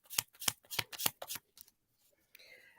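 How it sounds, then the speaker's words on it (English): A deck of tarot cards is shuffled during a reading, producing a quick run of sharp, close riffling bursts about every quarter second, then a softer rustle at the end. "So I'm giving these cards a big shuffle."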